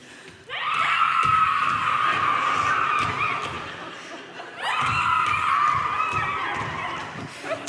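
Group of people in a church service loudly imitating a cacophony of screaming toads, a shrill, sustained vocal din in two long bursts separated by a brief dip, with laughter mixed in.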